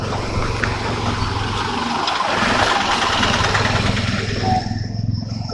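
Motorcycle engine starting up for a road ride from Aurangabad on a Kolkata-to-Ladakh trip, a loud close rumble settling into a steady idle and revving, no talking.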